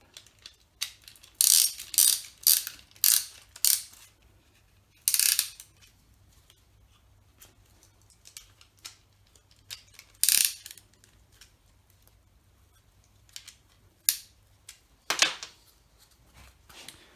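Ratcheting clicks and metallic clatter from a piston ring compressor being tightened during an MG Midget engine rebuild, in short bursts of close, sharp mechanical sounds spread across quieter stretches.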